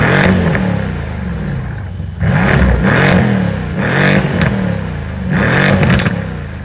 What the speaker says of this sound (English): as is right now with the Akrapovic exhaust, the car sounds absolutely bonkers.